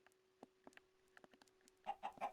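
Soft, sparse clucks from Minecraft chickens, a few scattered calls building into a quick burst of louder clucking at the end, with no talking.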